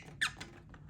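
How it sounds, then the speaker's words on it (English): A button on a piece of electronic test gear gives a single short, high squeak up close, followed by faint fainter chirps in a quiet room. "It's got the squeaky buttons"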